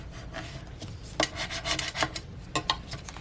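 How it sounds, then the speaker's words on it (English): A scraper tool rubs Cricut vinyl flat under transfer tape, giving a series of close, dry rasping strokes in uneven bursts, a few sharper swipes standing out near the end, with no talking. "I'm going to use my scraper tool just to really get in there, make sure it goes on really flat."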